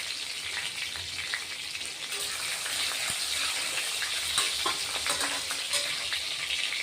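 Curry leaves and cut green chillies sizzle in hot oil in a pan, a steady bright frying hiss with crackles and pops, close and continuous, with no talking.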